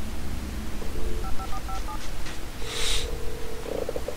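Touch-tone telephone dialing in the video game Alan Wake, a short run of clear keypad beeps under a low droning game ambience, followed by a steady ringback-style tone.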